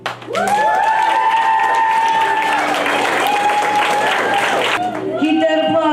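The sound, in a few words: audience applause after a poetry slam performance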